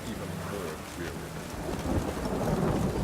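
Rain falls steadily with low rumbling thunder in The Witcher 3 video game, a continuous storm wash that swells slightly louder toward the end, with no voices over it.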